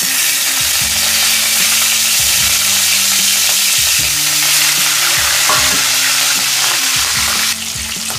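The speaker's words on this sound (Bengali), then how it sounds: "মাছটাকে আমি ভেজে নেব। আমি কিন্তু একটু লাল লাল করে মাছটাকে ভেজে নেব।" Marinated fish frying in hot oil gives a loud, steady sizzle and crackle that runs without a break from start to end, with no voices.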